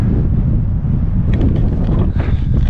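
Strong wind buffets the microphone on the Gowbarrow summit in the Lake District in March, with a constant low roar and rumble, loud and unbroken, no voices.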